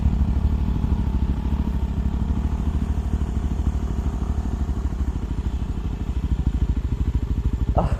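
A Yezdi Roadster motorcycle riding off-road, its engine thumping in a steady, rapid pulsing beat at close range with some clatter, holding an even loudness throughout.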